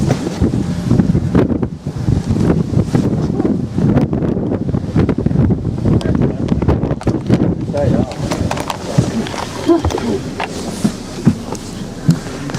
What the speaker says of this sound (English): It's windy out there, isn't it?